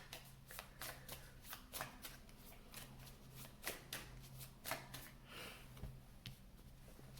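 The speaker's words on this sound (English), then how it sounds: "I'm gonna pull cards for the divine feminine now." Tarot cards being shuffled before a reading: quiet, close riffles and soft slapping flutters repeated in irregular bursts, with no voices.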